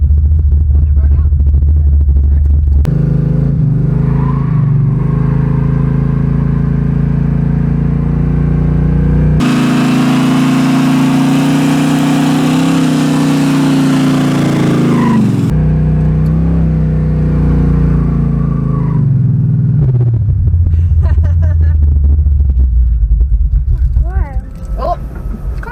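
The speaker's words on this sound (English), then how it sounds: "You want to do a burnout?" A Camaro engine roars and revs hard for a burnout over a long stretch, with rumbling surges and a sustained high-rev section in the middle.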